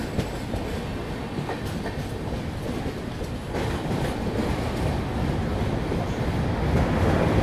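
Humsafar Express train crossing the Krishna river bridge, continuous rumbling roll of wagons with rhythmic clickety-clack of wheels on the track, steady and loud, growing slightly stronger toward the end.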